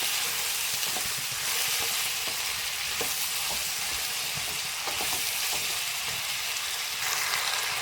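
Mushrooms fry in oil in a pan for a restaurant-style mushroom egg curry, with a loud, continuous close-up sizzle and scattered crackles and stirring clicks, and no speech.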